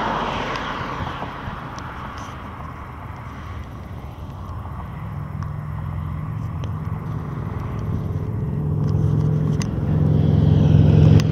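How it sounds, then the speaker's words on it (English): A car approaches on the Cottonwood Pass mountain road, its engine rumble starting faint and swelling steadily louder toward the end over outdoor ambience, with no speech. "And of course, the car is coming."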